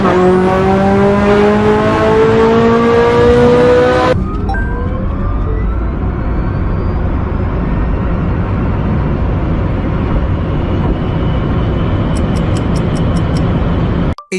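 A Rimac Nevera launches hard, a steady loud electric whine and rushing road and tire noise building and holding for over ten seconds, following a brief harmonic engine tone at the start.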